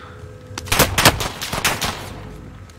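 Bursts of automatic gunfire in the Call of Duty Modern Warfare video game, a rapid string of loud shots that peaks at the centre and then tails off.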